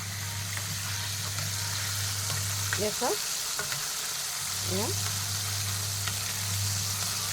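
Chicken popcorn frying in a pan, with a dense, continuous sizzle and crackle over a low steady hum, as someone speaks briefly a couple of times.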